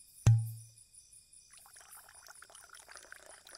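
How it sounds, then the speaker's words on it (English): Non-alcoholic wine is poured into a glass: one sharp clink, then a brief liquid rush that fades quickly, followed by faint quiet rustling close by. "allow me to pour you a glass"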